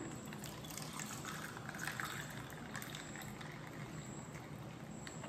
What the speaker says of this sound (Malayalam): ഇനി നല്ല പാല് ഇതിനകത്തേക്ക് ഒഴിക്കാം.